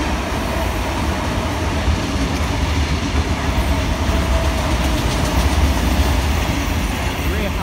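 A Sydney Trains Tangara set rolls into Petersham station platform one during the afternoon peak, a steady loud rumble of wheels and carriages throughout with no clear break.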